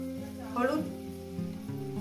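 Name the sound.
frying with turmeric in a pan, sizzling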